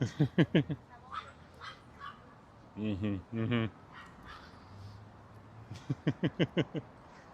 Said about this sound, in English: There's some doggos having fun way over there.